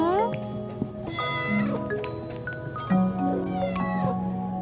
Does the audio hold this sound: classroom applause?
no